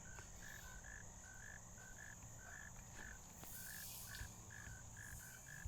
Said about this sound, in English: Do you hear the frogs?